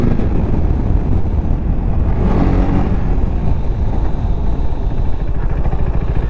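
A Kawasaki H2R motorcycle accelerates on the road, its engine a loud, continuous roar heard close up with wind rush throughout, swelling briefly in the middle.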